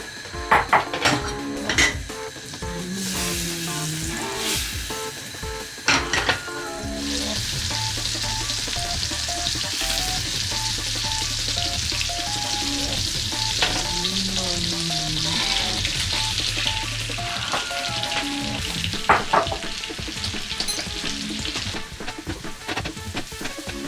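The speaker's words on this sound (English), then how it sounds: "What we are going to do now is toast the almonds for 1 or 2 minutes once this has melted." Almonds toast in melted butter in a small pan, a steady bright sizzle running throughout with occasional scrapes and clinks of stirring, close and moderately loud with a low hum underneath.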